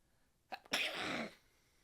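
A single sharp sneeze, close and loud, with a quick breathy intake just before the explosive burst.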